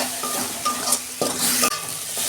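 Water splashed into sizzling masala for tengra fish curry, a loud hissing sizzle that surges as the liquid hits the hot pan, with light clinks of a utensil and no talking.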